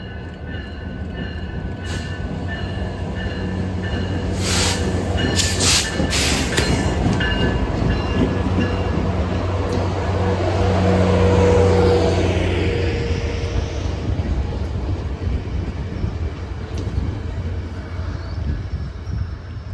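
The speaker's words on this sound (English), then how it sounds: "This train is a track inspection, assumingly just inspecting the track with a solo Jeep 20C Eco leading and 2 coaches behind the engine" Track inspection train, a lone Jeep 20C Eco locomotive leading two coaches, rumbles past at a steady loud level, with a brief burst of high horn-like tones early on and a fading roll toward the end.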